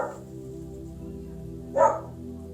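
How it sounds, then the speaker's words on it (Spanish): A dog gives a single sharp bark near the end, loud and close, over a quiet steady indoor hum. "disculpar por la molestia del perro"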